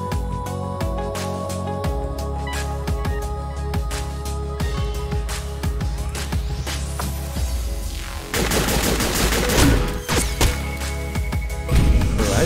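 Rapid machine-gun bursts and clustered gunfire crackle through tactical game combat in Frozen Synapse 2, dense and continuous with sharper, louder volleys near the end.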